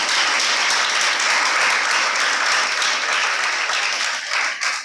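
Audience applause at an International Women's Day celebration, a dense steady wash of many hands clapping close and loud for about five seconds before tapering off at the end.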